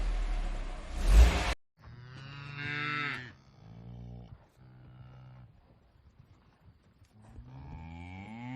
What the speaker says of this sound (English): Oh my gosh, we ran into a cow.